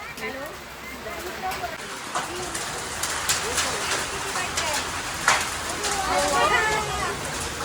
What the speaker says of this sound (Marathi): गारा पडायला लागल्यात.